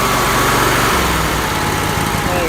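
A Kohler Command Pro 20 small engine, newly running off choke after a carburetor replacement, runs steadily at a smooth, even idle, its low mechanical drone close and loud throughout, with no voices.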